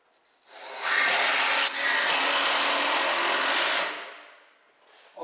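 A power drill drives screws into wooden boards for a DIY round hay bale feeder, one sustained loud whirring burst of about three seconds that rises sharply and tapers off, near and alone.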